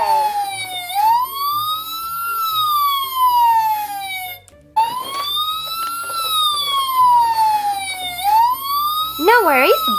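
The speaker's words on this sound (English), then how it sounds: "We have everything we need here in my ambulance." A loud toy ambulance siren wails in long rising and falling sweeps, pausing briefly midway before resuming, with a faster warble at the end.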